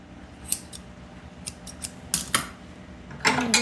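Grooming scissors snip close through a Shih Tzu's ear fur, crisp metallic cuts in an irregular series ending in a quick cluster of snips.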